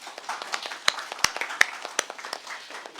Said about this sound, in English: Please join me again in giving a round of applause to everyone in this table.